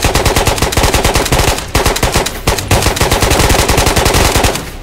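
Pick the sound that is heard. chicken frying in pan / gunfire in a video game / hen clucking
gunfire in a video game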